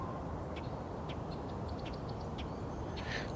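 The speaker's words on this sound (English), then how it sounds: "Common grackle." A common grackle gives a series of short, squeaky calls at a distance, faint over a constant roar of wind or traffic noise.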